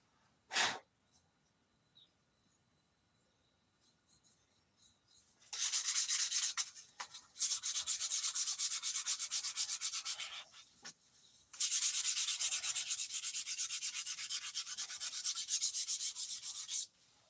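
Sandpaper rasps over a handmade wooden musky walking bait in two long bursts of rapid back-and-forth strokes, close and scratchy, after a quiet stretch with a brief sniff and small handling noises.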